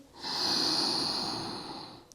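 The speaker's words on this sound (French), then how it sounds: "on fait du bruit avec sa respiration" A long, loud breathy exhale during a yoga session, a single sustained rush of air lasting about two seconds, close and alone, with no talking over it.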